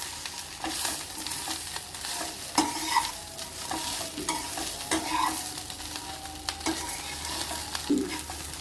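Steady sizzling of mustard seeds frying in hot oil, with occasional stirring clinks and scrapes, close up and continuous.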